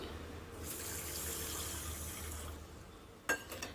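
A steady stream of one cup of water pours into a pot for a few seconds, then stops, followed by a couple of light metallic clinks.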